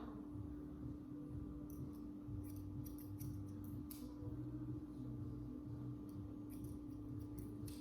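Scissors snip steadily through hair during a men's haircut, a string of quiet, crisp clicks close by over a constant low hum.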